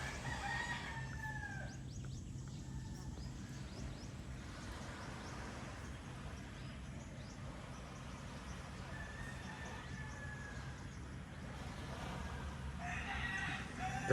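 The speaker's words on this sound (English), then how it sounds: "These roosters been waking up for 2 hours now." Roosters crow repeatedly in the distance at dawn, faint calls rising over a low rural background hum, with a few clucks scattered between the crows.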